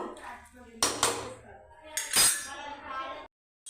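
A spoon stirring chicken curry with salt and chili in a metal pot: a few distinct scraping clinks and knocks against the pot, close and moderately loud, with quiet gaps between them.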